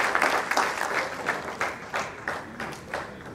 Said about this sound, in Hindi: आप सभी तालियों से इनका स्वागत करें।